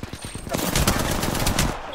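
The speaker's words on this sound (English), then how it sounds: "Oh, I'm getting shot from behind." Video game shootout gunfire, a rapid run of close automatic shots swelling into a sustained loud burst over about two seconds.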